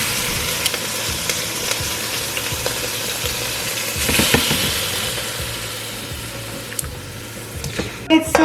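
Guyanese garlic pork hitting a hot pan: a continuous loud frying hiss that swells into a burst of sizzling midway, then settles, ending with a few clatters of the pan.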